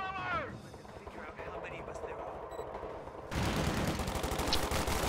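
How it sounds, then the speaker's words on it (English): Grenades go off in a video game battle, a burst of rapid explosive cracks and booms after a quieter stretch of game sounds, loud and dense toward the end. "More grenades being exchanged."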